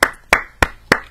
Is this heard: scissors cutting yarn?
no